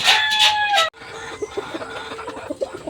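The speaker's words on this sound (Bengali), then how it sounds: "যে পাহাড়ি মুরগিগুলো আমি আপনাদেরকে দেখাইছি" Hill desi chickens cluck close by, beginning with a loud, high squawking burst, then breaking into a run of short, softer clucks.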